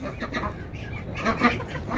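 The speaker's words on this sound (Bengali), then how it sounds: "দেখতে পাচ্ছেন এখানে হাঁস মুরগি বিভিন্ন ধরনের হাঁস আছে, চীনা হাঁস আছে, মুরগি আছে," Ducks, Chinese ducks and chickens on a farm make soft quacks and clucks nearby, a scattered, low-level mix of bird calls.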